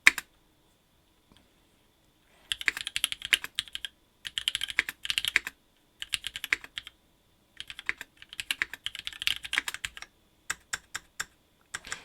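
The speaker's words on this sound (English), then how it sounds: "this is a nice tacky spacebar" Close, crisp typing on a custom TGR-910 mechanical keyboard built with Nixie switches and a tacky spacebar: bursts of rapid key clacks separated by brief silences, ending in a few isolated presses.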